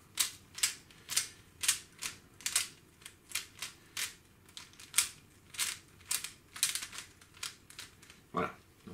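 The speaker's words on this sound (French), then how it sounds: "j'ai préalablement mélangé le cube, mais je vais le mélanger encore un petit peu" A Rubik's cube twisted rapidly while being scrambled gives a dense, irregular run of sharp plastic clicks and snaps, close and fairly crisp, with no talking.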